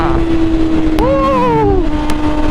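A BMW S1000RR sport bike accelerates hard, giving a steady loud engine drone with a tone that climbs through the gears. Heavy wind buffets the microphone throughout.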